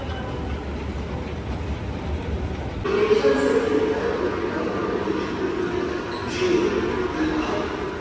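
Low rumble of a metro train with rail noise, swelling louder midway as it moves through the station, with a voice talking faintly at times.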